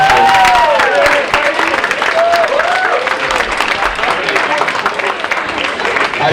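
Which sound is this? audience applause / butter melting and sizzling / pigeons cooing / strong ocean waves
audience applause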